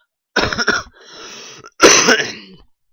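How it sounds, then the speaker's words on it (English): A sick person gives a few harsh, close coughs and throat-clearing bursts, with a rough raspy stretch in between, then a final loud cough. "I hate this cough and sickness I have."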